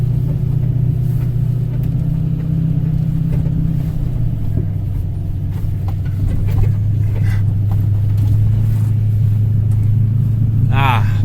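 An old tractor with a bad cylinder running at full throttle, a loud, steady low engine drone that shifts pitch partway through and holds strong to the end.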